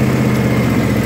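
A Kawasaki V-twin engine on a John Deere X570 mower runs steadily, a loud, close, low throbbing idle with a constant rumble, heard alone without talking.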